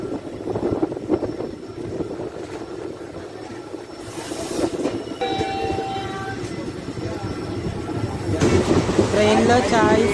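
Hundry Express passenger train (No. 17027) running between Umdanagar and Kurnool City, heard from inside the coach as a continuous rumble and rattle of wheels on rails, with a brief horn-like tone and people talking nearby.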